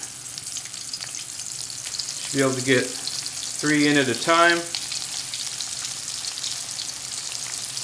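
Steady crackling sizzle of potato tacos with chorizo and cheese frying in hot oil, close by, while someone speaks briefly over it.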